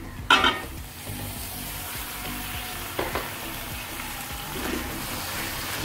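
Beef drops into a pan of onions and garam masala frying in oil, raising a sharp splash and a sizzle that settles into continuous frying with a few stirring clinks.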